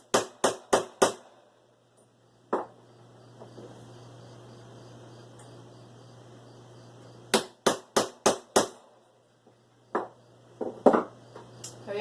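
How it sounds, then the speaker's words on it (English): A metal plant marker is hammered into the ground with sharp, loud whacks, a quick burst of four, a pause, then another rapid run of five and a few scattered later blows over a low hum. "give it a couple good whacks"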